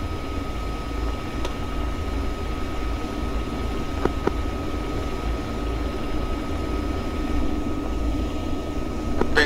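Fighter jets and a helicopter in the video game ArmA give a steady low engine drone and rumble with faint distant clicks, continuous and moderately loud, without speech.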